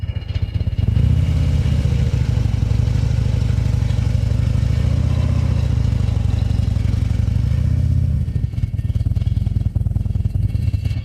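A motorcycle engine idles, then is revved up before pulling away into a tight U-turn from a standstill, a steady close mid-pitched drone that swells and holds for most of the stretch.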